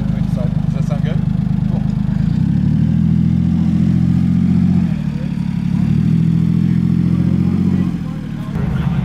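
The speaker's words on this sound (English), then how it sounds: "why don't I have you pull around and just back up a GT40 here inside" A Ford GT40 idles and reverses at a cars and coffee meet, its loud, steady, low engine note rising and dipping slightly as it maneuvers, with people talking nearby.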